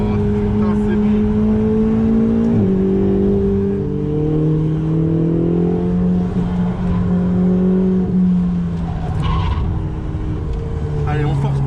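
A Ferrari 488 accelerates hard on the Nürburgring, its loud, close engine climbing steadily in pitch with a brief dip at a gear change, while people talk over it inside the car.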